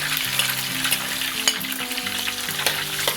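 Garlic sizzling in hot leftover oil in a pan while cooking squid adobo, a loud dense crackling fry with scattered pops and a few stirring clinks.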